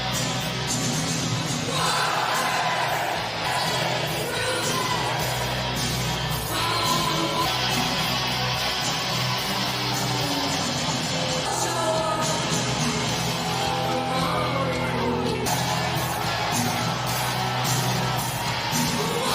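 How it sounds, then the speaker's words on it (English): Wrestling arena crowd in Chicago at AEW All Out 2021, a dense roar of cheering and yelling that swells and surges steadily throughout, loud and continuous. "Crowd is going nuts here tonight in Chicago."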